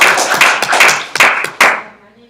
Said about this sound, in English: Everybody give Maria a great round of applause